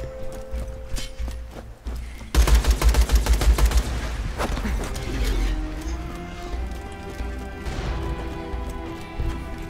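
Gunfire in the video game Borderlands 2: a quieter stretch gives way to a loud rapid burst of automatic shots, followed by scattered single shots and lingering ringing tones.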